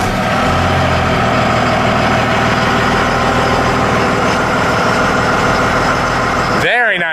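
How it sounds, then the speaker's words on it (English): A 2001 Dodge Ram 3500 dually with a Cummins diesel and six-speed runs loud and close in a steady rumbling idle that holds for several seconds. It cuts off abruptly near the end. "Very nice sounding engine."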